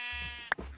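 A sheep in the Minecraft modpack Divine Journey 2 gives a single short bleat about halfway through, clear and close against a low, steady game background hum.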